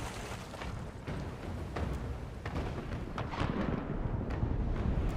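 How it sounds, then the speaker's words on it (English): Ship cannons fire in a naval battle in the video game Pillars of Eternity II, giving several deep booming blasts over a continuous rumbling, roaring background. "Fire the port cannons."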